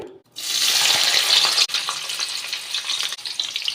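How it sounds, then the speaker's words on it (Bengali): Capsicum dropped into hot white oil in a kadai bursts into a loud, bright sizzle after a brief silence, holding steady with a couple of short breaks, and no voices. "তেলটা গরম হয়ে গেছে, দিয়ে দেবো ক্যাপসিকাম"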